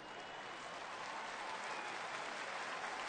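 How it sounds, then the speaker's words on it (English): Stadium crowd at a TCU vs San Diego State college football game breaking into sustained, steady applause as an injured player sits up, a broad even wash of clapping heard from a distance throughout. "that's what gets everybody here collectively to exhale and applaud"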